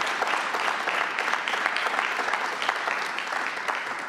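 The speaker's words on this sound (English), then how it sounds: "So please give them also a round of applause." An audience applauds during the Durham mayor's State of the City Address, with dense, even clapping from a large room that holds at a moderate, steady level for the whole stretch.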